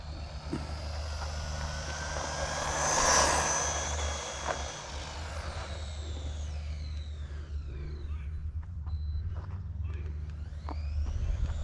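A Wltoys 124019 RC car with a 4000kv motor and a Hobbywing Max 10 controller runs on dirt at quarter throttle. Its high electric whine swells to a peak early on, then eases and wavers as it moves away.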